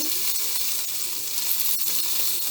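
Beef for soup searing in a hot pan, a steady broadband sizzle that stays loud and even throughout with small crackling pops and no talk.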